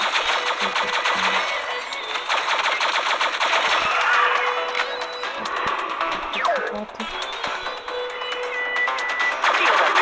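Rapid automatic gunfire rattles almost continuously, with bursts of shooting and electronic game sounds layered on top.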